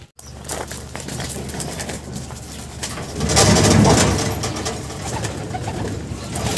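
A racing pigeon coos close by, its low throaty calls rising in the middle of the clip over a steady background hum.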